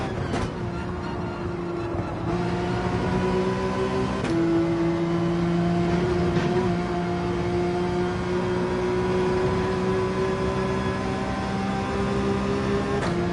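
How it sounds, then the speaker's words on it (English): A Porsche 911 engine in Gran Turismo 7 drones steadily and loudly at high revs through the whole stretch, its pitch climbing gradually, with brief shifts and no talking over it. "Play the Porsche 911 to its strong points, which is revving the beans out of it."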